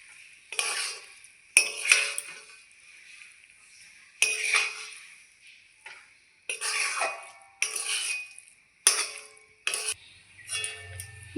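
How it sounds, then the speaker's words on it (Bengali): Spoon scraping and clinking against a pan as boiled Maggi noodles are stirred together with chicken, in a series of short, close metallic bursts separated by brief pauses. "দিয়ে দিচ্ছি ম্যাগি ভালো করে মিলিয়ে নেব"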